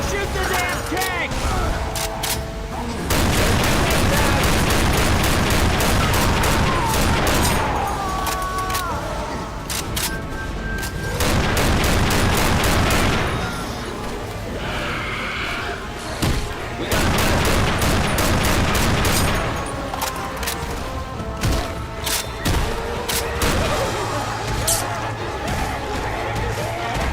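Dense, rapid gunfire from Left 4 Dead 2 rattles in near-continuous bursts of shots and booms, loud and close, pausing briefly between volleys while a voice talks over the fighting.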